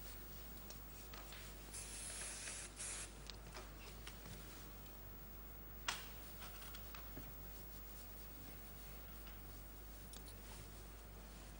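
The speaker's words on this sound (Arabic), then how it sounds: "سبراي." A spray bottle lets out a short hissing burst, very quiet against a faint background with a few soft ticks and clicks.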